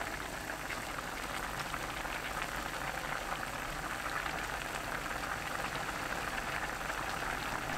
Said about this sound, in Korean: 순두부 넣고 센 불로 2분 끓입니다